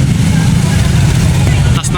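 A busy road crowded with motorcycles during a Flores de Mayo procession: a loud, close engine drone with low rumble fills the clip, and a brief sharper sound comes near the end.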